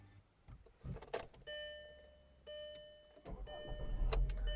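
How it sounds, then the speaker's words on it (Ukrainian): A used Skoda Octavia with 110,000 km on it: soft dashboard chimes ring out, then the engine cranks and catches into a low, steady idle near the end, with no talking. "Двигун запускається чудово"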